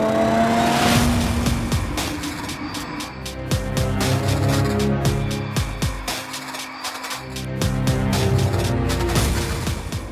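A Lamborghini Huracan supercar is driven hard, its engine revving loudly up and down through repeated gear changes, close and continuous.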